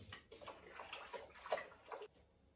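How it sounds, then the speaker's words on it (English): Seville orange marmalade with shredded peel is stirred in a pot on an AGA range, giving soft, faint wet sloshing and gurgling for a couple of seconds. "And give it a good stir."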